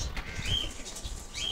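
A pigeon at a home loft beats its wings in a brief, soft flurry of flapping, close by and fairly quiet, with no talk.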